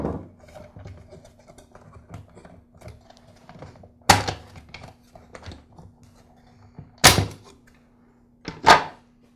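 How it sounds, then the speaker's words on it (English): A screwdriver pries apart the plastic motor housing halves of a Black and Decker CST1200 string trimmer, giving three sharp, loud snaps spaced a few seconds apart over quiet, faint handling noise. "I'll use a screwdriver to help split the two halves of the motor housing."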